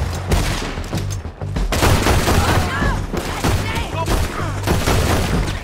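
Rapid dual pistol fire from Red Dead Redemption 2, loud close bursts of sharp repeated shots in a dense fusillade with booming impacts, voices briefly under the gunfire.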